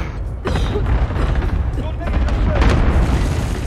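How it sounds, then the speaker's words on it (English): Mortar explosions in a video game, rumbling booms and heavy low-end blasts rolling one after another, dense and loud, with a voice talking underneath. "I got a triple kill with my mortar."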